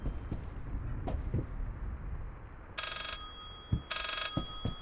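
A telephone in the horror video game Layers of Fear rings in two bright, trilling bursts over a low, rumbling ambience with scattered thuds.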